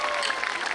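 Audience applause at a Hindi comic poetry gathering (kavi sammelan), a dense steady wash of clapping from a crowd, moderately loud and continuous through the short moment with no break.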